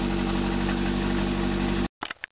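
Car engine running with its exhaust disconnected after a head gasket replacement, a loud, raw, steady roar that cuts off abruptly, followed by a few short bursts of sound.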